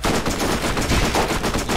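Rapid automatic gunfire from a weapon in the video game Borderlands, a dense burst of shots fired close and loud with almost no pause between them.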